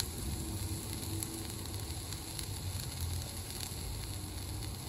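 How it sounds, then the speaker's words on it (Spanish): Garlic sautéing in a pan as the base for stewed red beans, a steady, moderate sizzle with faint crackling that holds evenly throughout, with no talk. "Y vamos a empezar a sofreír."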